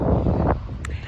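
Strong wind buffets a microphone outdoors during an interval run, giving a loud, steady rumbling roar that eases off partway through, with a brief rustle near the end.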